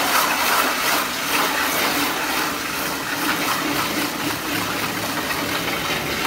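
A shower spray nozzle sprays water steadily to foam car shampoo on a Toyota Vellfire minivan, a continuous loud hiss close by with no pauses.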